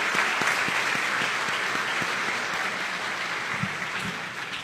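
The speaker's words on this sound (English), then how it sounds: "big round of applause" Dense, steady applause from a community gathering honouring a newly appointed appeals court judge, sustained at an even level throughout and fading slightly at the end.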